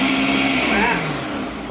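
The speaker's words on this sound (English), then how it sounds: "Wow, it's a powerful blender." Powerful kitchen blender whirring through a watermelon cocktail mixture, a loud steady motor drone with a pitch that sags slightly as it works, running alone and close up.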